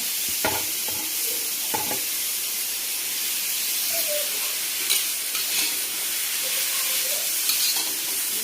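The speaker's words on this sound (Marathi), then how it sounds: "आपण ह्या तव्यावरती आता हा मुळा टाकून घेणार आहे आणि छान खरपूस असा भाजून घ्यायचा आहे आपल्याला" Radish pieces roasting on a hot iron tawa give a soft, continuous sizzle and hiss with occasional light scraping stirs, close by and fairly quiet, with no talking.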